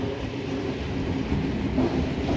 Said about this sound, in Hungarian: talán most hagyja el a nyugatit az a vonat, amivel mi is érkeztünk ide